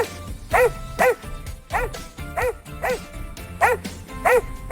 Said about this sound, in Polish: Jaki ładny piesek!